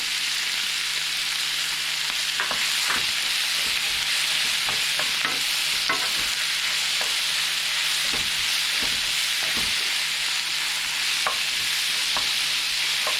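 Cucumber with minced garlic, salt and sugar stir-frying in a hot pan, a steady close sizzle and hiss with intermittent scrapes and taps of the spatula throughout, no voices.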